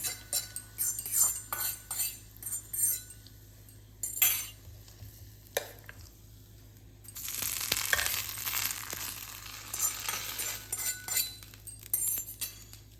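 Sizzling tempering poured into curd rice for a Navaratri offering, then mixed with a spoon: repeated close clinks and scrapes of metal on the vessel, followed by a broad hissing sizzle in the middle and more stirring clatter, with no talk.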